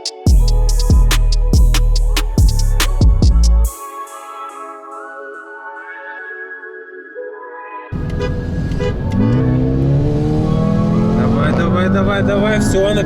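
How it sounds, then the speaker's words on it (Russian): A stock manual 280-horsepower Mitsubishi Evolution racing a Mercedes, its engine revving hard in repeated rising pulls through the gears, then cutting out to a near-silent gap before a loud, sustained roar returns. "Mitsubishi Evolution стоковый на механике 280 сил против Мерса."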